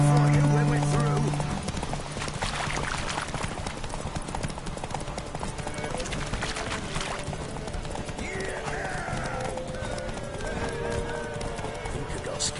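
Roach the horse gallops in The Witcher 3 with steady, close clip-clop hoofbeats and a brief whinny, under game music and a talking voice.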